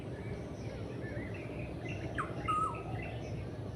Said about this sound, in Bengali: যে কারণে সব সময় এরকম পাখির সুন্দর বেশ ডাক শুনতে পাওয়া যায়